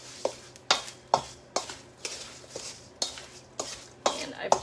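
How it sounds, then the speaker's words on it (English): Butter and pie ingredients being mixed in a big bowl, a spoon scraping and knocking against the bowl in a steady rhythm of about ten close, clear strokes, with no talking. "Now mix that all together"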